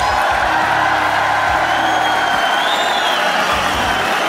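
A concert crowd at a show in London keeps up a dense, loud wash of cheering and applause, with whoops standing out over the steady roar.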